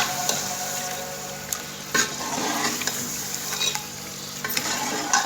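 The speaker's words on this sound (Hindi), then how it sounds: "अब हम भुनाई करेंगे अच्छी तरह कलेजी डाल के।" Beef liver (kaleji) frying and sizzling in a pan with spices, stirred steadily with scraping spoon strokes and a few sharper clanks throughout.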